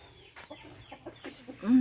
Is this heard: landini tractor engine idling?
no